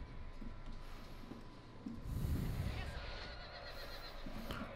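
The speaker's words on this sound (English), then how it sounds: "These horses are also fleeing." Horses neigh and whinny during a battle in a strategy video game, a faint call around the middle over low rumbling battle noise and scattered clatter.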